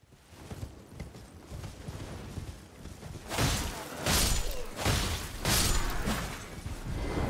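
Horse hooves galloping in the Elden Ring video game: soft, scattered hoofbeats at first, then louder, pounding strides in a steady rhythm through the second half, with no talking.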